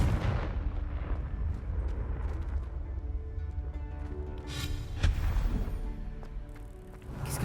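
A Confringo fire spell explodes in Hogwarts Legacy: heavy rumbling booms and low crackling blasts over a steady din, with a sharper burst around the middle and ringing magical shimmer on top, with no one speaking.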